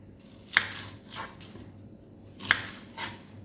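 Kitchen knife chopping through an onion on a board for a soy chunks snack, two sharp cuts about two seconds apart with softer slicing strokes between, close and clear with no talk.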